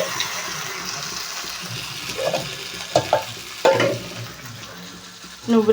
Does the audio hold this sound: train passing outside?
no